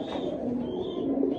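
A male pigeon coos in a steady, throaty run at close range, carrying on continuously with no other sounds around it.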